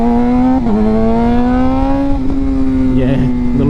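A Suzuki GSXR600 motorcycle engine holds a loud, close, rising rev with a strong buzzing exhaust note, and a faint pop or two near the end.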